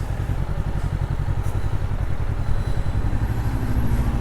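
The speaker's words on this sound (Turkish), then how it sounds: "Şöyle kontağımızı açalım." A 2025 Honda CBR 500R motorcycle engine runs close by after ignition, a steady low throbbing idle that holds throughout with a faint clatter on top, and no one talking.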